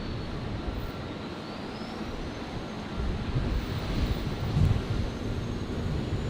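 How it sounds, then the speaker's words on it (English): A Virgin airliner arriving from Perth and landing on runway 19 left at Brisbane, a broad, distant jet rumble with wind noise that swells slightly toward the end. "Virgin 461 here, arriving from Perth onto 19er left."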